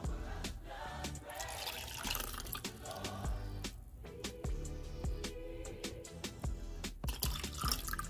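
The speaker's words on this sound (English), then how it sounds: "I'm going to use this twice to get to my 8 ounces of water." Water poured from a half-cup measuring cup into a container, with splashing trickles and drips over a faint background hum, close and fairly quiet, with no talking.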